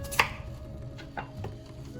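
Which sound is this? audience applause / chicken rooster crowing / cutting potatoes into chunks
cutting potatoes into chunks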